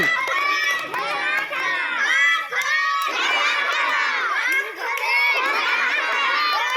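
A group of children cheers and shouts loudly during a riddle game, with excited voices overlapping in a steady, dense roar that dips briefly and then surges again.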